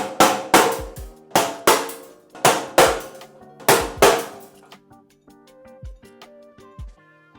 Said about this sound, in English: I'm going to put this on the floor and then hammer these guys out